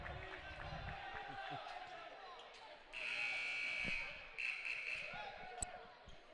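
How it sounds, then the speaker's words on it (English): A loud, steady electronic buzzer sounds for about a second during a varsity high school basketball game between Elsberry Indians and Clopton Hawks, rising over gym crowd noise and bouncing balls, with a commentator talking throughout. "They're buzzing the buzzer."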